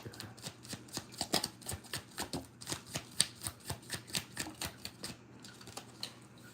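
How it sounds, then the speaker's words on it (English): Tarot cards are shuffled up close, producing a quick run of soft slaps and flicks in a steady rhythm with a short pause near the end. "when I was shuffling"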